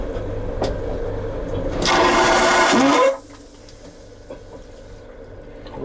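Hotel toilet in Yekaterinburg flushed by pressing the button, a loud rushing roar of water lasting about a second before cutting off sharply to a quieter refill trickle.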